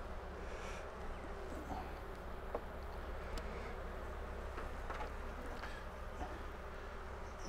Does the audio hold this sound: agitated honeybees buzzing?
yes